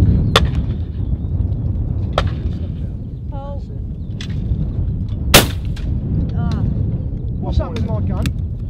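Shotgun shots ring out at an outdoor clay shooting ground, a handful of sharp, separated blasts of varying distance with one very loud near shot, while people chat in the background.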